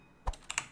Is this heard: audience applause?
no